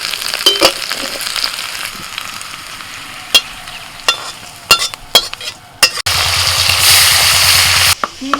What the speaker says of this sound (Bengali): পেঁয়াজ কলি আর আলু আমি ভেজে নিয়েছি একটু ভালো করে ভেজে নিতে হবে